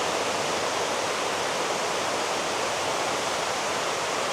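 Water pours steadily from the shower filters of a koi pond at a Japanese koi farm, a dense, unbroken hiss and splash that stays loud and close throughout.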